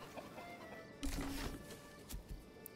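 Chickens cluck and squawk in the medieval village-building game Manor Lords, a brief burst of fowl calls over soft ambient game noise, with a few quieter clucks following.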